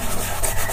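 Pastel pencil pigment being rubbed into paper while laying in a sky and distant trees, a steady soft scrubbing friction that runs continuously and close, with no talk.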